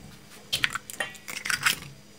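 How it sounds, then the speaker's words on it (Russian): Two chicken eggs cracked by hand into a salted batter for tea-time pastries: a few sharp clicks and taps of shell against a bowl, close and fairly crisp, with no talking. "И вбиваю 2 куриных яйца."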